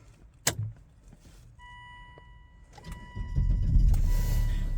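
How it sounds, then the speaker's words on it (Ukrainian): A 2008 Volvo XC90 diesel engine cranks and catches, rising into a steady low idle rumble after a few seconds of quiet mechanical clicks and a whirring motor. "Безпроблемний запуск автомобіля."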